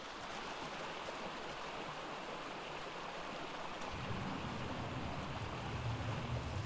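A river flows in the Ark Ragnarok game world, a continuous broad rush of running water that stays steady throughout and deepens slightly partway through, with no voices.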